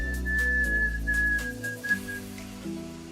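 A thin, high whistle rises from hot glass and holds for a couple of seconds, then fades, over low rumbling background tones.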